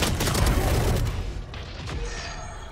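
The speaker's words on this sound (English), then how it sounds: "Placing swarm grenade. Placing swarm grenade. Swarm grenade out." A swarm grenade goes off in a video game firefight, a loud, close burst of rumbling, crackling detonations that rolls on and slowly thins out over a few seconds.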